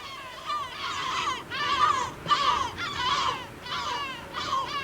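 Gulls at a breeding colony on islets in the Chinijo Archipelago give loud, harsh, repeated calls in overlapping bursts over a constant windy background.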